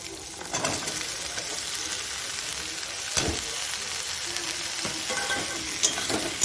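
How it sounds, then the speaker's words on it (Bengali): Boiled-free taro stolons stirred through spiced hot oil in a pan, giving a steady close sizzle and frying hiss with scraping stir strokes throughout, no talking. "এবার এর মধ্যে আমি কচুর লতিটা দেব।"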